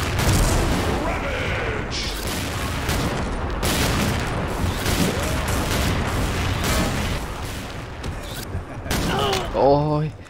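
Sniper rifle gunfire in the shooter game XSHOT, dense bursts of shots and booming impacts filling the mix almost continuously, loud and close, with a voice speaking over the action near the end.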